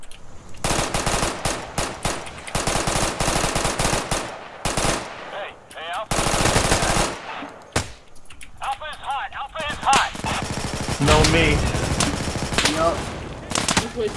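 Loud, sustained automatic gunfire in Insurgency, with rapid bursts and single shots rattling close, brief gaps between volleys, and a voice talking amid the shooting.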